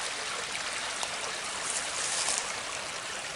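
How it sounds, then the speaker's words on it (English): Meltwater runs off a hillside in spring near a cabin, a steady broadband rush of flowing water that holds an even level throughout, with no voices. "The water come off the hill as if it was just released from its frozen tomb of winter"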